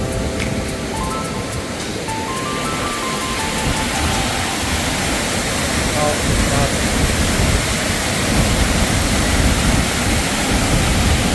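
Waterfall at Nong Wai dam in Nam Phong, Khon Kaen, as a steady, loud broadband rush of falling water that continues throughout, with faint tonal sounds early on.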